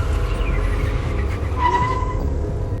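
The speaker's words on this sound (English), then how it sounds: "high school student Shishigami transforms into a car conductor, elegantly controlling vehicles to demonstrate his powers to friend Naoyuki." Cars in an anime scene skid with drawn-out tire squeals over a dense, loud rumble of engines and motion. The squeals rise and fall briefly within continuous noise.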